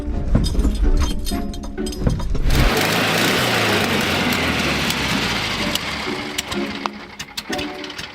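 An old VW camper van engine sputtering at low revs with uneven chugging, then surging into a steady idle and fading into rough, faltering beats as it stalls, loud and close.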